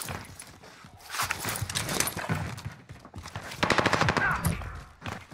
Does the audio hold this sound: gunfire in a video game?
yes